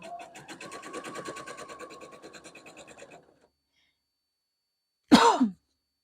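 A sewing machine runs in a rapid, even stitching rhythm while piecing a Barn Star quilt block, stops after about three seconds, then a short scratchy rub follows after a pause.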